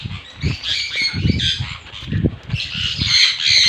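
Birds in an aviary squawk in loud, repeated harsh bursts close by, with bits of wing flapping and chirps mixed among the calls.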